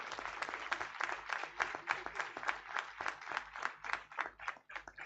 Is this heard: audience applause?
yes